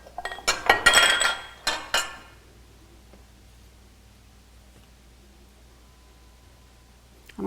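An 8 by 8 inch pan is scooted across a kitchen counter, producing a quick cluster of loud metallic clanks and scrapes up close over about two seconds, followed by near silence.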